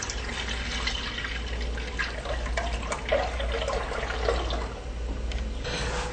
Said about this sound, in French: Il faut donc verser notre lait dans le chaudron, bien entendu.